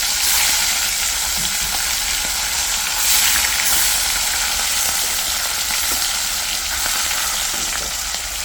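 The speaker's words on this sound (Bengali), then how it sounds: "সবগুলো মাছ এভাবেই একে একে ভেজে নেব।" Whole hilsa fish frying in hot oil in a kadai gives a steady, close, loud sizzle and crackle with no pauses and no voices.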